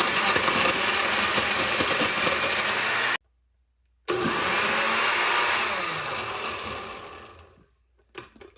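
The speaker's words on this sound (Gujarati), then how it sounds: "આપણે એમાં મિલ્ક એડ કરી દઈશું અને હવે આપણે બ્લેન્ડ" An electric blender whirs loudly as it purées chikoo and milk with chocolate powder into a shake, running in two bursts separated by a short pause, then winding down and stopping.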